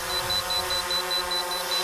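Rapid, evenly spaced high-pitched beeps repeat about five times a second over a steady mechanical whir, with no talking.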